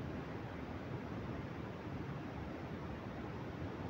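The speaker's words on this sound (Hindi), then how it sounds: "पूरा एकदम पूरा पानी बह रहा है बहुत" Water rushes at Dasam Falls, a waterfall near Ranchi, as a steady broadband roar heard from a distance, faint but continuous with no breaks or voices.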